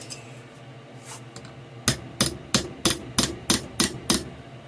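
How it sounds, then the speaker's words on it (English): A hammer strikes metal eight times on a model held in a vise, in a steady rhythm, each blow sharp and ringing, close by with no talking. "using a hammer next, I think."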